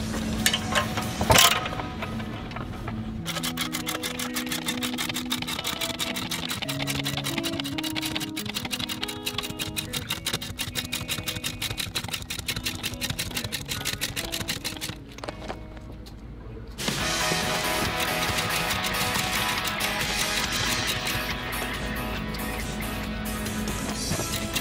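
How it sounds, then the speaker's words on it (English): A BAL tire leveler jack is cranked by hand with its wrench, making a long run of quick, regular mechanical ticks and clicks that pause briefly, then resume as a harsher grinding ratchet noise, close and steady throughout. "it comes with a wrench and you just start cranking it and jack it up."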